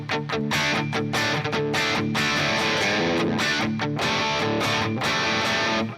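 Electric guitar chugging through a heavy, distorted amp, dense and continuous with palm-muted rhythm throughout.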